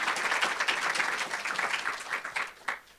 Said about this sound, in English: Let's give them a round of applause for their work to make this award a reality